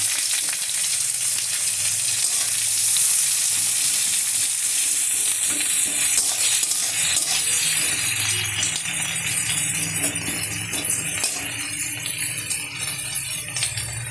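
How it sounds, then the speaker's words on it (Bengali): A generous amount of onions frying in oil in a pan, giving a loud, continuous crackling sizzle that holds steady throughout, with occasional faint clinks and rattles. "আমি দিয়ে দিচ্ছি পেঁয়াজ।"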